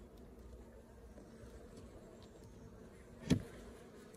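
Honey bees buzz at a hive entrance during spring splits and a rapeseed honey harvest, a faint steady hum with one brief louder click near the end and no talk.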